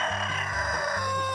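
A rooster crows, newly added to a backyard flock of hens, its loud cock-a-doodle-doo running nearly the full length close to the listener, with no talk over it.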